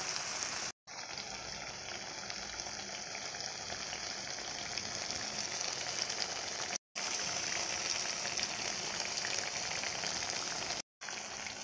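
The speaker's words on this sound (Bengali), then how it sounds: "এইভাবে ভেজে নেবে, নেওয়ার পরে তুলে নেব লাল লাল করে।" Bitter gourd fries in oil with a soft, steady sizzle that crackles faintly. The continuous hiss is broken by a few short gaps.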